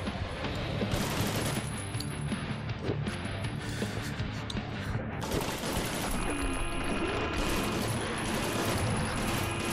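Rapid, sustained gunfire in a VR shooter game, continuous bursts of shots rattling on loudly and evenly throughout with no pauses and no talking.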